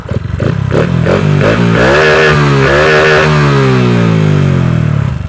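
A Honda Wave 125i motorcycle fitted with a modified PCX fuel injector revs up and pulls away, its engine note rising in clear harmonic sweeps, loud and close, steady throughout with no talking.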